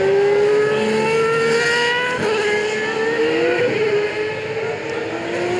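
A Superleague Formula race car screams past at full throttle, its engine note loud and close, sliding downward in pitch as it goes by, with no talk over it.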